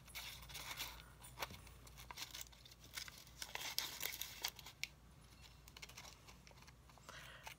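Scissors cutting a thin Post-it note mask along a drawn line: faint, close snips and papery crinkles in irregular short bursts, with light rustling between cuts.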